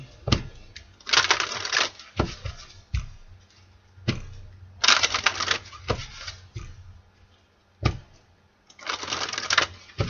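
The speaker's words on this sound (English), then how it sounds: "let's cut the deck" A deck of tarot cards being shuffled and cut, giving bursts of riffling flutter broken by sharp taps and snaps as the cards are squared, close and fairly loud with no talk.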